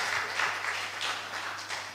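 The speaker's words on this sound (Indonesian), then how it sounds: "Tepuk tangan untuk Ibu Margareta" Applause rises in a hall at a 2021 Christmas celebration of the Ikat Bali community, greeting Ibu Margareta as she comes up to perform. The clapping stays dense and even throughout, with a steady low hum beneath it.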